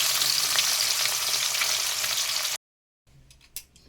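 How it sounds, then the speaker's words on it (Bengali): Snakehead (shol) fish fries in hot oil for a Bengali kaliya with a loud, dense, crackling sizzle that runs steadily for over two seconds. The sound then cuts to near silence, followed by a few faint clatters. "মাছগুলো ভেজে নেবে"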